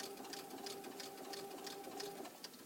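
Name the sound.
sewing machine stitching cotton quilt binding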